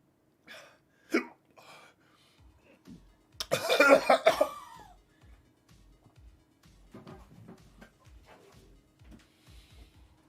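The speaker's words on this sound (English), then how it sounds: "He's having the hiccups right now." Repeated short throaty hiccup-like spasms and coughing sounds, irregularly spaced with a louder burst of retching in the middle, close and moderately quiet, no talking.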